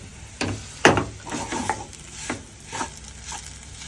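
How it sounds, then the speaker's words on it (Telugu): Rava laddu mixture is stirred in a pan, a series of scraping, knocking strokes of the spoon against the pan at an irregular pace, close and moderately loud. "అమ్మ ఒకసారి మిక్స్ చేయి."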